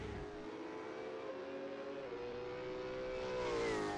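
An electric EV8 supercar in a sim racing game at Winton, its steady tonal motor whine rising and shifting pitch under load, loud and close with no talk.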